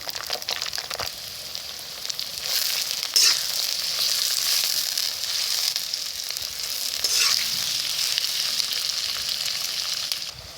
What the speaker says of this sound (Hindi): इसके लिए मैंने 1 कप कढ़ाई में जाएगा ऑयल। इसमें शामिल कर देंगे 1 बड़ा प्याज बारीक कटा हुआ